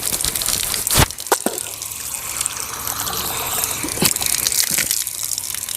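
Water splashing and gushing steadily during wudu ablution, with a few sharper splashes standing out, close by and without voices.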